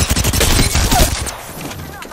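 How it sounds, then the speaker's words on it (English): Rapid video-game gunfire from an Apex Legends match, a dense burst of loud shots for the first second or so that thins into trailing echoes and quieter action, with a voice talking over it. "I'm getting shot by somebody that's not even near us"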